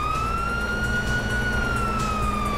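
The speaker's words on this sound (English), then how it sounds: "You hear that? Siren!" Police siren from the video game Grand Theft Auto 5, a steady, loud wailing tone that rises and falls slowly, continuous throughout over a dense backdrop of game engine and street noise.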